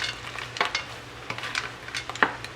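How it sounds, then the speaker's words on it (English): Frozen vegetables sizzle and fry in a pan, with several soft scraping stirs at intervals over a steady low hiss, close and moderately quiet. "I'm just gonna let this all cook and stir together."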